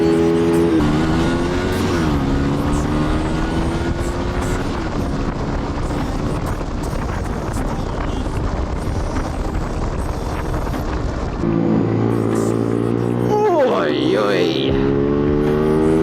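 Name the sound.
KTM Duke motorcycle riding on backroads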